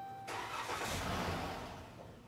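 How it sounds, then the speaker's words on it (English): A Dodge Grand Caravan 3.6L engine cranks over after fuel system pressure is drained, starting with a sudden close burst that whirs briefly, then settles and fades slightly toward the end. "Crank the engine over. It may start and die,"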